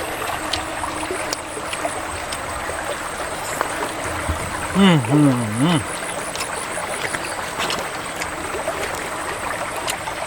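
A forest stream flows beside a campsite with a steady, close wash of trickling water. A voice briefly hums or murmurs over it midway.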